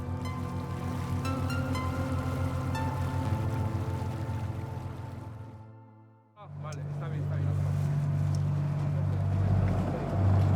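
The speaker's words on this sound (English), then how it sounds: "the boat will travel very slowly" A boat engine drones steadily with water noise as the boat travels very slowly, a brief dip in the middle before the low motor hum returns, continuous and fairly close.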